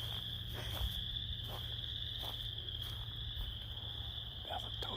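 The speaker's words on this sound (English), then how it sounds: "There's a toad pond. Pretty awesome loud." A loud, continuous chorus of toads calls from a pond beside a forest trail at Big Creek Lake in Iowa, a steady high trilling drone that runs unbroken throughout with no talking.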